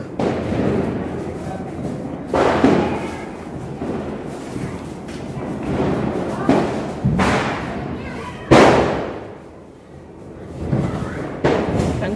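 Several sharp firecracker bangs go off at irregular intervals during a Diwali celebration, each followed by a rumbling echo, with voices talking in the background.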